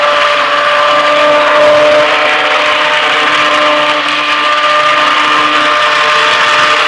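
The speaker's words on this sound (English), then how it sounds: "this is an immersion blender and you go on the lowest speed to get everything mixed in" An immersion blender runs on its lowest speed, mixing a batch with lye added, giving a loud, steady whirring drone that holds without a break.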